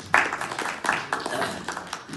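An audience claps at a human rights speech event, scattered moderate applause with uneven bursts of hand claps, fairly faint and alone.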